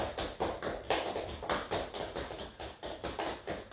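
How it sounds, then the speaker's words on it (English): Feet jog on the spot during a cardio workout, rapid rhythmic thuds and taps repeating evenly at close range with no talking. "Just jog on the spot."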